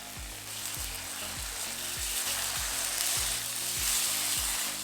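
Ground spice paste sizzles with softened chopped tomatoes in a pan: a steady, bright frying hiss runs throughout, with regular low thumps from stirring. No one speaks.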